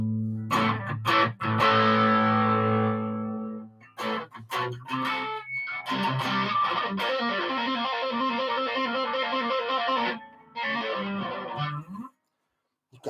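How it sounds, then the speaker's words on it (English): Electric guitar played loud through heavy distortion, ringing chords and choppy riffs running for about twelve seconds, then cutting off abruptly into near silence. "maybe put some distortion on it."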